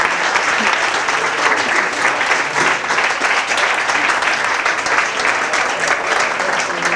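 Sustained, dense applause from an audience at a Pint of Science talk, steady and loud throughout with no pause, many hands clapping at once.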